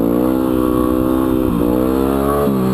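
A Yamaha WR250R dual-sport motorcycle engine drones steadily close by, its pitch dipping and rising twice as the throttle is blipped for second-gear wheelie pops.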